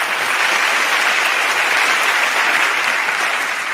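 Sustained applause from a TEDx talk audience, a loud, dense and even wash of many hands clapping that carries on without a break and without speech.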